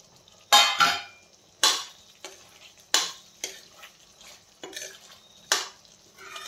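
Twice-fried potatoes being stirred into masala for Kashmiri dum aloo: about seven or eight distinct scraping, clattering stir strokes of a utensil in the pan, separated by short quiet gaps over a faint sizzle.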